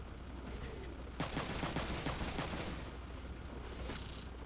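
Gunfire in the Front Mission 3 video game, a burst of rapid shots lasting a couple of seconds over a steady background hum, with a lone shot following shortly after.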